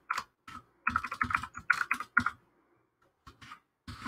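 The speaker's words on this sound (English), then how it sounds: "Some fun keyboard ASMR for you this morning." Someone types on a computer keyboard in quick bursts of clicking keystrokes, with brief pauses between runs. The keys sound close and crisp, with no voices.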